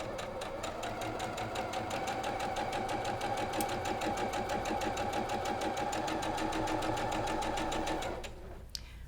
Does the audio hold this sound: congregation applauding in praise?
no